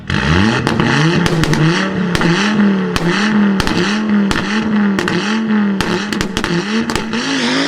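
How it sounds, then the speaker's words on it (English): Rally car in Forza Horizon 5 spits a rapid, irregular string of loud anti-lag backfire cracks over a droning, revving turbo engine, the pops coming close together and sharp throughout. "you've probably heard cars make backfires that sound like this"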